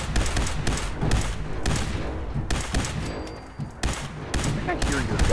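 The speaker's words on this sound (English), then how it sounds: "I think I hear your gun firing" Bursts of rapid gunfire in Fallout 4, loud and close, firing in repeated volleys with short gaps between them.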